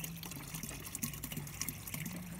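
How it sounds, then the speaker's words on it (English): A garden hose sprays water onto tomato plants to knock aphids off, a steady close hiss of spray with soft splashing and dripping on leaves, no talk. "What I'm doing is spraying the aphids, as many as I can, off of my tomatoes."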